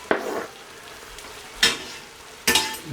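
Spicy Impossible sausage frying with onions in a pan, with three sharp bursts of sizzle as food hits the hot surface and softer crackling between them.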